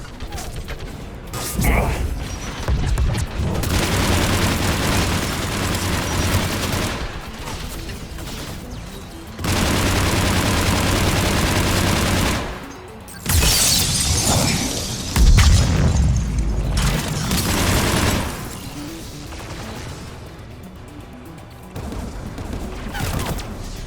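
Turret gunfire in a video game, long loud bursts of rapid mechanical firing separated by brief lulls, with booming impacts and crashing debris mixed in, all close and dense.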